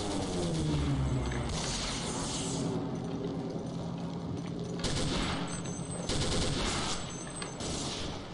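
Gunfire in the video game Day of Defeat: bursts of loud rapid shots and mechanical clatter, close and fairly continuous across the stretch, with a few brief pauses between volleys.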